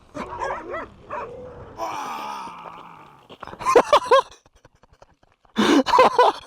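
Dogs barking in a video game, a few scattered barks and whimpers at first, then a low groaning growl, followed by two loud clusters of close barking separated by a short quiet gap.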